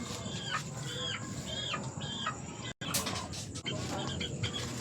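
A Flores White brood stag rooster clucks nearby in a series of short, repeated calls, with a brief dropout partway through and faint background noise.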